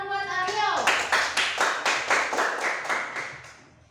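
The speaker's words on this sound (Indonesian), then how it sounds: "Tepuk tangan buat Aryo" A class of children claps together for a classmate, a quick run of about a dozen close, rhythmic claps that speed up slightly and then fade, with a teacher's voice at the start.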